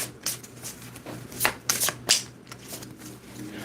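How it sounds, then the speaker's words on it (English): Tarot cards on smooth card stock are shuffled by hand in a series of quick riffling bursts, close and fairly loud, with no talking over them. "They're on perfect card stock for shuffling."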